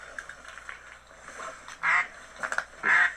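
A duck call blown during a Michigan duck hunt gives several loud, nasal quacks in short bursts, close by, with quiet outdoor background between them.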